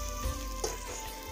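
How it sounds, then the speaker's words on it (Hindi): Ingredients roasting in a pan, a soft low sizzle with a faint stirring scrape partway through. "तो अब हम इन्हें थोड़ा सा भूनेंगे ताकि इसका कच्चा जायका ख़त्म हो जाए"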